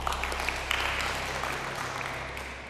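Audience applause at a school quiz competition as a team's score is announced, a steady wash of clapping filling the short stretch.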